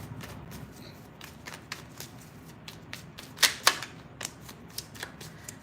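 Tarot cards being shuffled and drawn: a steady riffle of soft, close card flicks with a few sharper snaps near the middle, no talking.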